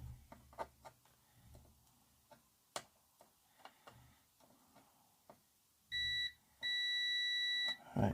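A multimeter continuity tester probing an Alphasmart Neo circuit board gives two steady electronic beeps near the end, one short and one longer, preceded by faint probe ticks and taps.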